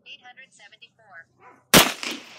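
A single sharp gunshot from a .45 ACP handgun loaded with 4.5 grains of E3 powder at an outdoor shooting range, loud and close with a short decaying tail, preceded by faint chirping bird sounds.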